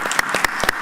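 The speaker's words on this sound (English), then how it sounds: "Let's give him a round of applause." Brief applause at a county board of commissioners work session, a few distinct claps at an irregular pace.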